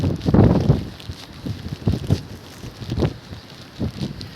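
Gusty wind in Taiwan buffeting the microphone, a steady rumbling roar that swells and fades in uneven pulses.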